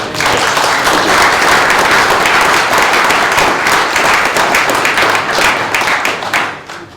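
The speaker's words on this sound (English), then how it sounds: "Please can we have a round of applause?" A club meeting audience at an annual general meeting breaks into loud, sustained applause, dense clapping close by that holds steady for several seconds before tapering off at the end.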